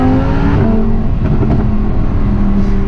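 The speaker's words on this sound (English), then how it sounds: "you probably can't even hear me over the engine" A loud, close Lamborghini Huracan engine revs hard and drones steadily, its pitch holding high with a brief surge in the middle, no voices.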